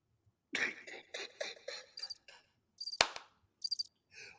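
A cricket sound effect plays as a short run of sharp, high chirping bursts separated by brief silences, isolated and clear.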